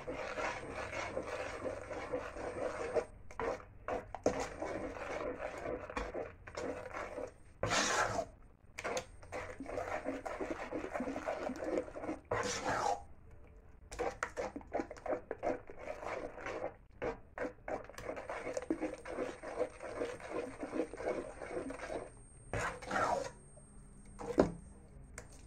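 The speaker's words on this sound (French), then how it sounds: "Et je mélange le tout." Sugar, coconut and homemade rice flour are mixed for mokary, giving steady scraping and rubbing strokes in quick rhythm, close and fairly quiet, broken by short pauses and a few sharper knocks.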